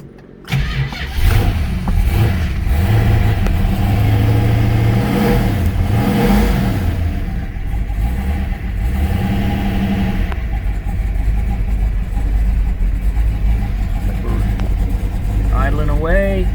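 A 1968 Dodge Hemi Charger R/T cranks briefly and fires up, then settles into a loud, lumpy, steady idle with a few blips of revs, the big V8 rumbling close by throughout.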